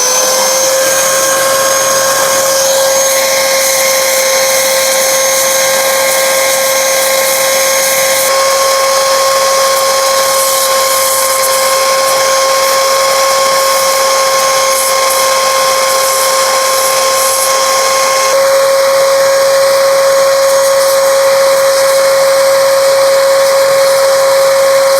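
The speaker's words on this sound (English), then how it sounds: "get yourself a belt sander and see how we have it misaligned" A belt sander runs against stainless steel exhaust piping, giving a loud continuous high-pitched grinding whine with steady motor tones throughout and no talk.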